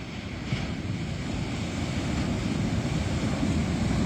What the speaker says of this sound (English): maybe listen to the ocean in the background